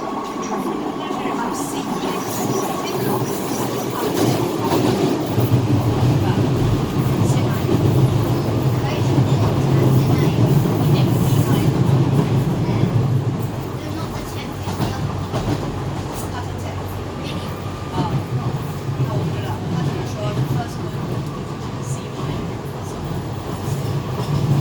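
A Docklands Light Railway train runs between stations on the route from Canary Wharf to Lewisham. It sounds as a steady, loud rumble and rattle heard from inside the carriage, with wheel clatter throughout and voices talking quietly under it.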